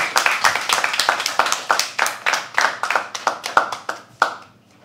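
Audience at a poetry open mic claps in a brisk, dense burst of applause lasting several seconds, loud and close, then fades out quickly.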